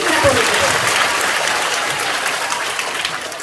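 An audience at a Mohiniyattam dance recital in Malappuram, Kerala, claps steadily throughout, a dense, continuous round of applause from many hands in a hall.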